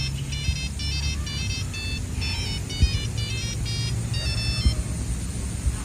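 A phone rings in a room, a bright repeating electronic ringtone in short bursts that carries on throughout over low background rumble and faint noise.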